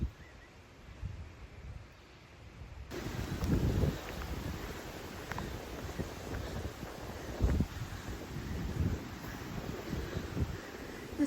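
Wind gusts buffet the microphone atop Molly Knob, a mountain summit in Hungry Mother State Park, Virginia, a steady low roar with louder blasts, heard alone without talk.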